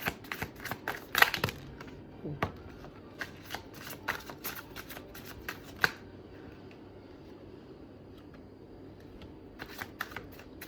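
Tarot cards are riffled and shuffled by hand in quick, uneven bursts of crisp flicking and slapping, close up and soft, thinning out toward the end.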